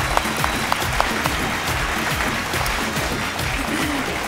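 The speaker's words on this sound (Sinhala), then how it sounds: "ක්ලැප් එකක් දෙන්න" A studio audience at a TikTok-themed entertainment show claps loudly and continuously, a dense close roar of many hands with a few louder slaps near the start, voices faintly mixed in.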